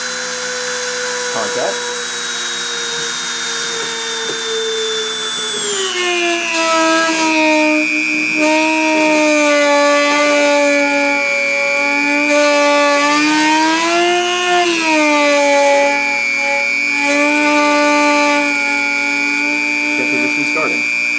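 CNC spindle spun up to 30,000 RPM for a deposition run, a loud steady whine that drops in pitch partway, then holds and wavers slightly, with a brief spoken word over it.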